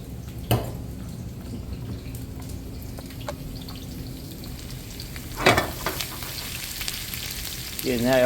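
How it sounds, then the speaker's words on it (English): Peppers sizzle steadily in hot ghee in a pan, a continuous frying hiss with a couple of brief stirring clatters. "Getting that all nice and sizzling,"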